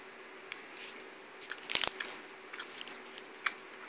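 A chocolate caramel candy bar crunches in a few sharp, close bites with soft chewing and wrapper crinkles between them, quiet overall.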